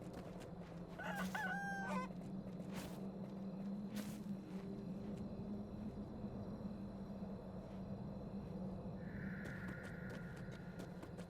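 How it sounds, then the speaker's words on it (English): Chickens in the video game Kingdom Two Crowns, with a brief burst of clucking near the start set over a steady low game ambience hum and scattered clicks. "I think they are actually chickens."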